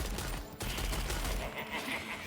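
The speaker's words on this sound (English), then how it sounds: "And then I shoot it down with one shot." Gunfire from the video game Lost Ark, a dense burst of shots with a brief pause, then continuing loud game combat sounds with no talking.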